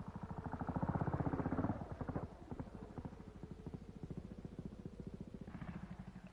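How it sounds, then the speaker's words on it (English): A 1950s Royal Enfield trials motorcycle rides down through a gully on a trials course, its single-cylinder engine thumping in a steady rapid beat that swells and then settles to a lower idle, fairly close, with no voices. "He takes his Royal Enfield down through the gully at the turn."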